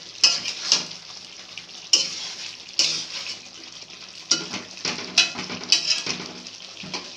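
Chicken curry meat cooks in a covered pot in its own released juices, with a soft sizzle broken by repeated sharp clanks and scrapes of a utensil against the pot, close and without talk.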